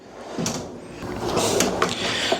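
A drawer in a barber studio slides open and shut with a couple of wooden rolling scrapes and soft knocks, close by against a steady room hum.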